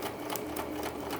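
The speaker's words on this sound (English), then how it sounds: "Hope you can hear over the sewing machine." A sewing machine runs steadily while stitching through paper, making a continuous close whirring drone with a fast even rhythm throughout.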